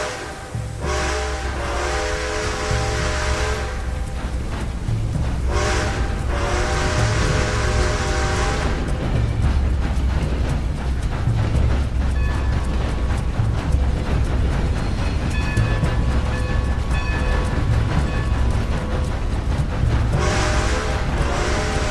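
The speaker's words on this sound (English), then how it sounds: "Time to start this train again." A steam train starting up in the video game Red Dead Redemption 2, a steady loud hissing and chugging rumble lasting over twenty seconds, with bursts of tonal whistle-like ringing at the start, middle and end.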